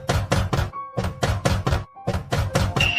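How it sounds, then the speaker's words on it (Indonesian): Knocks land on a door in three quick groups of hard, close wooden raps, each group about four blows, with short silences between groups. "tiba-tiba terdengar ketukan lagi"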